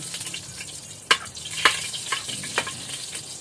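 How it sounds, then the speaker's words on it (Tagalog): Garlic dropped into hot oil in a home kitchen pan, crackling and popping in a few sharp spits over a low steady fry, close and fairly quiet. "Ilunod na nato ang bawang. Ayan. Ay! Sagirit siya guys."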